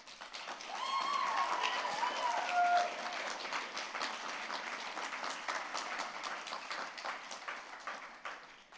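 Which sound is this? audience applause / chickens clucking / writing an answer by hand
audience applause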